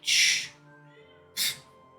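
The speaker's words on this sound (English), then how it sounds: "Sorry if y'all hear the cat in the background." A cat makes two short vocal bursts in the background of a quiet room, the first longer and louder and the second briefer after a pause, with no talking.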